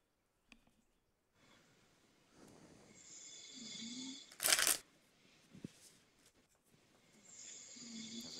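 A deck of cards is shuffled twice on a desk in a quiet room, giving soft riffling bursts, with a brief loud rustle in the middle and some faint breathing between them.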